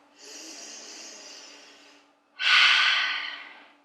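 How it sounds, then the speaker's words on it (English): Two long, airy breaths taken while seated and folded forward in a home mat workout stretch, soles of the feet together; a softer inhale runs about two seconds, then a louder, breathier exhale follows after a short pause, close and quiet. "Take a long breath."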